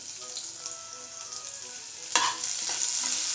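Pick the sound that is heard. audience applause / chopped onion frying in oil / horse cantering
chopped onion frying in oil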